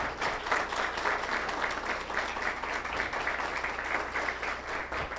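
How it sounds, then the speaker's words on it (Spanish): Sustained applause from an audience at a demand-response industry panel discussion in Colombia, thanking the panelists; dense, even clapping fills the whole stretch with no voices over it. "Quiero que reciban con un fuerte aplauso a los panelistas que estuvieron hoy en nuestro conversatorio."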